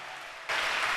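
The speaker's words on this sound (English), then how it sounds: "Clap your hands for all of them." Audience clapping at a church gathering, a steady wash of applause that swells noticeably louder halfway through the short burst.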